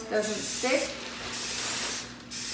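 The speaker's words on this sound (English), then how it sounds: "I just like to spray my pan" Cooking spray hisses onto a pan in two bursts, each about a second long and close by, while someone speaks briefly at the start.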